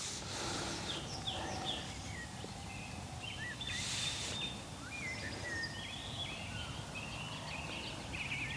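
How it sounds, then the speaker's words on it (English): Birds sing and chirp repeatedly around a wild camp spot in Leicestershire, faint and spread out over a soft background hum of distant traffic. "Hear all those birds."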